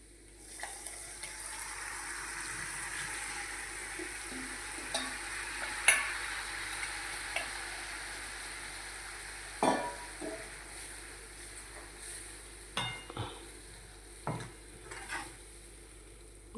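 Mung beans tumble into a spiced pan and get stirred, a steady sizzle and frying hiss running throughout with scattered scraping knocks of the spoon against the pan, close and moderate in level, no talk.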